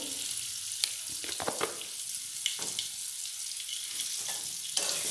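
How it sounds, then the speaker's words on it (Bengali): Diced potato cubes with turmeric powder and salt sizzle in hot oil, a soft continuous fry with scattered sharp crackles and a few spatula scrapes, no voices. "দিয়ে আলুগুলো লাল করে ভেজে নেব।"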